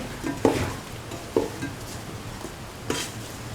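Cauliflower and bottle gourd stew stirred with garam masala in a pan, a few distinct spoon scrapes and clinks over a soft steady sizzle, with no voices.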